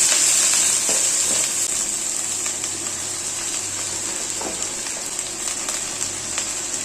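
Chopped pumpkin leaves dropped into hot coconut oil with spluttered mustard seeds, producing a loud, bright sizzle that starts strong and settles into a steady hiss with occasional faint pops.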